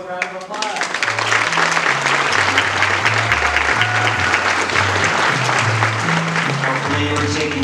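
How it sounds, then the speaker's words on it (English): Sustained audience applause at a university pitch competition summit, steady and full throughout, with music playing underneath and faint voices. "let's give a round of applause"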